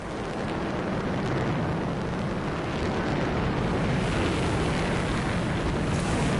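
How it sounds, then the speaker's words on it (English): A waterfall in the Anthem video game roars as a dense, steady rush of water, loud and continuous with a broad wind-like hiss and no speech. "waterfall ahead if you want to cool your suit"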